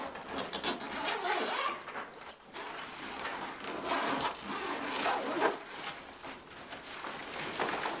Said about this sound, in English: Unzip the zipper to completely open the front flap.